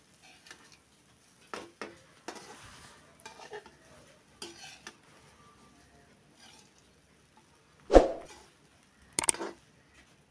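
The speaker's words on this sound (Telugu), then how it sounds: "స్టవ్ వచ్చి సిమ్లోనే పెట్టుకొని కలుపుకుందామండి." Egg fried rice is stirred in a pan on a stove over low heat: scattered soft scrapes and taps of a spoon against the pan, faint between strokes, with a louder clatter near the end.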